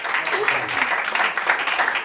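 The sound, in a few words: congregation applauding for the angels in church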